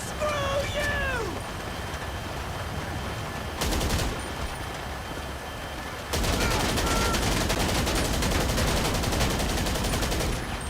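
Rapid automatic gunfire in GTA 5 Online as a magazine is emptied, a dense sustained burst of shots that builds loud after a short earlier burst, with game voices and other noise around it.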